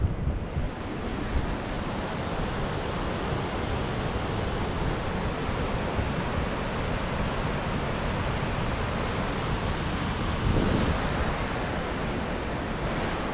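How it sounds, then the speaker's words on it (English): A river rushes through a deep canyon at Mount Rainier as a broad, steady roar of water, constant and fairly loud with no voices over it. "it just sounds like there might be a river."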